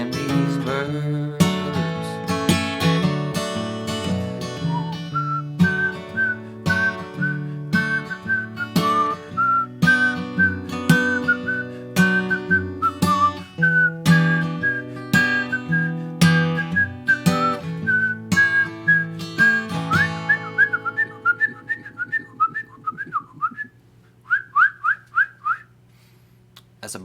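A whistled bird-chirp imitation rises over a live band performance: a steady high whistled line through the middle, then a few short, bright chirping bursts near the end as the music thins out.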